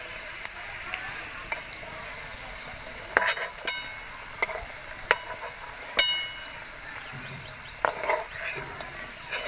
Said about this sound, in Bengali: আলুগুলো আমি লাল লাল করে ভেজে নিয়েছি,